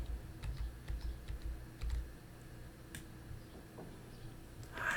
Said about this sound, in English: And then I'm just going to start hitting that plus key.